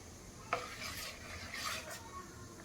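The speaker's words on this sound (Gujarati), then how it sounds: "હવે આપણે એને મિક્સ કરી અને જોઈ લઈશું." Rested wheat-flour malpua batter being stirred in a bowl, giving a faint, close, wet scraping and swishing in short strokes, with a small knock at the start.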